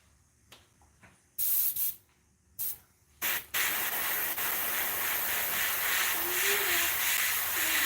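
Aerosol spray paint being applied to a fishing lure, several short hissing bursts followed by a long continuous spray hiss up close.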